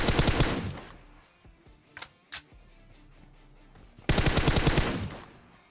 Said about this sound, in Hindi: मेरे ख्याल से M16 पटका रहा है